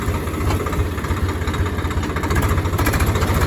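A 2024 Swaraj 855 tractor idles close by, its engine giving a loud, steady, throbbing knock with a fast even rhythm and no voices.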